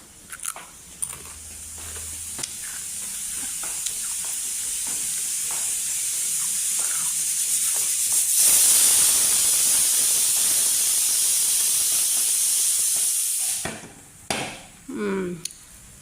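Five carrots boiling in a pot for carrot halwa, giving a steady steamy hiss that swells and holds for several seconds, with soft kitchen clatter before and after.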